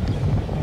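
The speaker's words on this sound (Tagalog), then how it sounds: "Tama-tama malakas ang hangin para ma-testing natin ang lipad." Strong wind buffets the microphone outdoors while a kite is flown, a continuous loud low roar with no pauses across the short moment.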